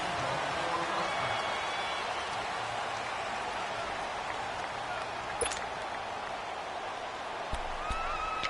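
Steady broad roar of a stadium crowd before a Los Angeles Rams versus Chicago Bears matchup in an NFL video game on PS4, continuous and even throughout, with a few brief sharper spikes near the end.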